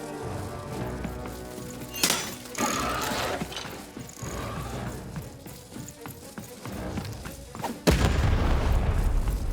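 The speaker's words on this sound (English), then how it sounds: "Shoot the button to fire the cannon." Cannon firing in the Lost in Random video game, two heavy booming blasts about six seconds apart, the second followed by a loud low rumble, set among game sound effects and music.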